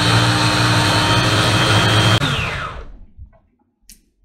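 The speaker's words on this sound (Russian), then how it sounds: "И с помощью колесика включаем блендер." A Beaba Babycook blender-steamer purees food with a loud, dense whirring roar for about two seconds, then winds down quickly into near silence.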